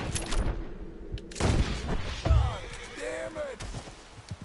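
Pistol shots ring out in a Red Dead Redemption gunfight in New Austin: several sharp, loud bangs spread across a few seconds, mixed with game ambience and other in-game sounds.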